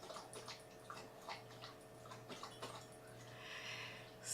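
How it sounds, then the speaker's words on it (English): A dog slurping water indoors, faint repeated wet laps in an irregular rhythm over a low steady hum, with a louder splash near the end. "the dog is slurping water"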